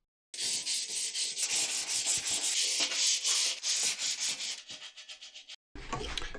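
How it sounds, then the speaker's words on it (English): Coarse abrasive rubbing across a metal chair frame during a second sanding pass, a steady loud scratchy rasp in quick back-and-forth strokes that runs nearly continuously for about five seconds, then a brief pause and a short resumption. "I'll do a second sanding, give it a sanding"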